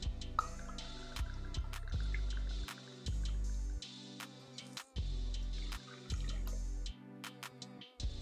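Vodka and lemon juice poured over ice into a Collins glass, with a run of bright drips and short liquid trickles, close and clear, in a quiet room.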